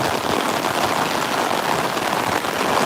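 Heavy wind-driven rain pours down outdoors over a wide car park, a loud constant hiss of drops with no pauses and no voices.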